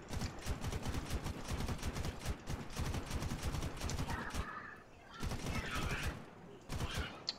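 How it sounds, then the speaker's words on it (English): Aircraft cannon fire in the video game War Thunder, rapid sustained bursts of automatic shots in two long strings separated by a short pause, loud and continuous. "And then you can just spray your cannon ammo"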